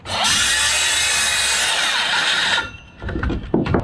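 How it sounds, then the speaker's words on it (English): A power saw cuts wood blocking along a stud in wall framing, a loud continuous whining cut lasting a couple of seconds before it spins down, followed by a few knocks and clatter of wood. "set your saw up just like this, and run it along that stud"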